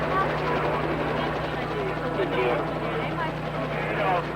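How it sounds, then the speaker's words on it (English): Loud, steady rotor roar with a low throbbing hum fills the whole clip, a helicopter close overhead, with voices faintly mixed in. "The helicopter's overhead and I can't hear you."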